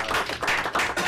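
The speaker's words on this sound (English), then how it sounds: "perhaps we should wrap it up with applause for Professor Bassford" A brief burst of audience clapping for Professor Bassford after a talk on Clausewitz, uneven and somewhat sparse, with a few distinct louder claps pulsing through a short stretch.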